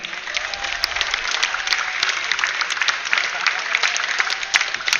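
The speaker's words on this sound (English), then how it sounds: "we of course hear the home crowd cheer here for this double Swedish match" A home crowd cheers and applauds at a Nordic and Swedish Championship Nations Cup match between two Swedish teams, a dense, steady roar of voices and clapping that holds at an even level for the whole stretch.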